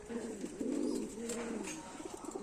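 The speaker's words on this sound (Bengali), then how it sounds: "এই একটা পায়রা আছে দোবাজ।" A male Dobaj pigeon with taki eyes, a fancier's breed, gives a few low, throaty rolling coos close by in a quiet loft, alone without talk.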